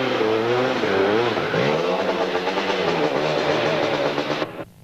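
Sidecar motorcycles racing on the Brechfa rally course in 1999, engines revving loudly and continuously close by with pitch rising and falling as they pass, cutting off sharply near the end.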